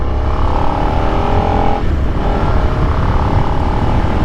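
A Suzuki SV650 sport motorcycle rolls on from second gear, its engine droning loud and close as it pulls up through the revs, with a brief dip before climbing again.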